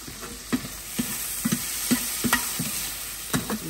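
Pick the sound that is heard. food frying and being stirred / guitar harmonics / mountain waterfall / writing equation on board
food frying and being stirred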